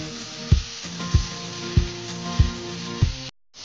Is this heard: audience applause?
no